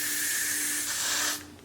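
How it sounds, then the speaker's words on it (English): A can of Got2b freeze hair spray releases one steady, close hissing burst lasting over a second before cutting off, with no talking. "Going to go in with my Gots to Be freeze spray"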